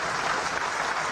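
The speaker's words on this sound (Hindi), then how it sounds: "स्वागत और अभिनंदन करें तालियों के साथ" Brief, dense burst of crowd clapping as an audience at a Rajasthan public event welcomes a deputy chief minister to the stage, uniform and sustained with no voices over it.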